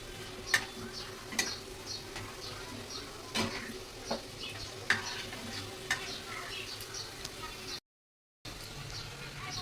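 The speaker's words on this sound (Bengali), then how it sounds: "সয়াবিনের বড়া ভাজছি" Soybean fritters fry in hot oil, a steady sizzling hiss dotted with sharp crackles and occasional utensil ticks, close and fairly quiet, with a brief dropout near the end.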